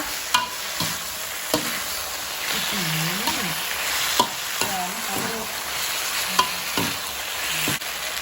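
Chinese kale is stir-fried with crispy pork in a hot pan, giving a steady, close sizzle broken by regular sharp scrapes and clinks of a spatula against the pan.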